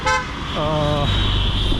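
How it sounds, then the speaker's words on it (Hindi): Car horns honk in busy Allahabad street traffic, one short toot followed by a longer sustained blast, close and loud over steady road noise and engine rumble. "काफ़ी लाउड हॉर्न लगा के लोग चलते हैं, तो उसकी वजह से भी बहुत ज़्यादा शोर पूरे इलाहाबाद की सड़कों पे"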